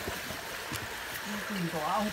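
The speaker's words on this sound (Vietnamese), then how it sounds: "Dưới kia là suối các bạn nhá." A forest stream in a ravine in northeastern Quang Ninh rushes below as a steady, broad hiss, with a voice speaking over it near the end.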